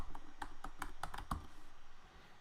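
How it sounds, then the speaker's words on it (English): A series of light, irregular keystrokes on a computer keyboard, about a dozen quick clicks over two seconds, close and quiet with no talking. "We're going to type the word deposition."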